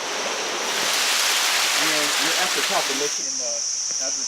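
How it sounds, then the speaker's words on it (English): Water flowing down rock stairs at Kuang Si Waterfalls in Luang Prabang makes a loud, steady rushing wash close by, with someone talking over it for a moment. "the water is just kind of flowing down this entire rock, this entire mountain area"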